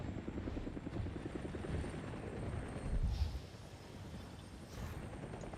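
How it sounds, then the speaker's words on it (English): Helicopters approach in the Avatar: Frontiers of Pandora video game, a steady, faint rotor thumping that swells briefly midway and then eases, with no talk. "Uh-oh, I hear choppers."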